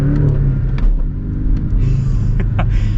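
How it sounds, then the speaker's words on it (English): A Porsche Cayman S with a manual gearbox and a turbocharged engine pulls hard on a street, its loud, steady engine rumble heard from inside the cabin as the revs climb. "You feel the turbo nature of this engine, but it's not overwhelming."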